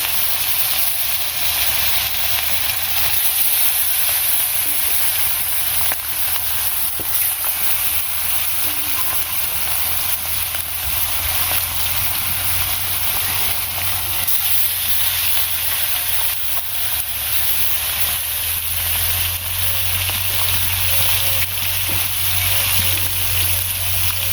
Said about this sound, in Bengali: এই যে মাছ ভাজা হয়ে গেছে, নামিয়ে নিই এখন।